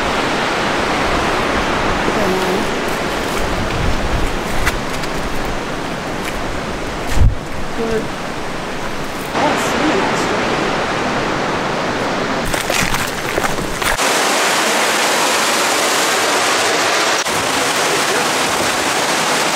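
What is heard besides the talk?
water pouring over a waterfall in the Blue Mountains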